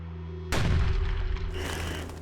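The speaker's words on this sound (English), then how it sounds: "A cannon fires at the moment of Anne's death" A cannon fired as a signal at Anne Boleyn's execution booms once, loud and close, after a low sustained musical drone, with a rumbling tail that decays under the continuing score.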